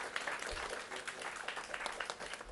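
Applause from an audience at an inaugural logo unveiling event for a federation of press clubs, a steady dense patter of clapping lasting throughout, moderately loud, with some faint voices underneath.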